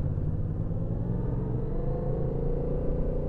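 A 2014 Yamaha MT-07 motorcycle on a test ride, its engine a steady low rumble mixed with road and wind noise, holding an even drone throughout with no talking.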